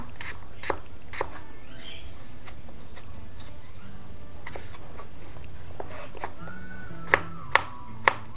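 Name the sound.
knife chopping garlic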